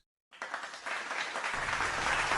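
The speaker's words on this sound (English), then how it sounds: "Applause began slowly" Audience applause rises after a moment of silence at the close of a stage play, starting thin and quickly swelling into steady, full clapping from a crowd.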